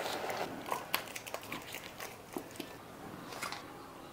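Quiet chewing and biting of elephant foot yam curry with rice, a Bengali home dish, heard as soft irregular crunches and mouth sounds close up with no voices.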